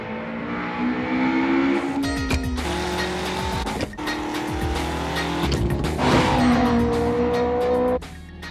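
A race car in the Assetto Corsa video game revs hard and upshifts repeatedly, its engine note climbing and dropping at each shift, with tire squeal mixed in; loud and continuous, no voices.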